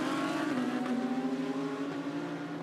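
GT race cars, including a Porsche, racing at the 2018 Suzuka 10 Hours; a single engine drones steadily close by, its pitch sliding downward as it passes, with no voices over it.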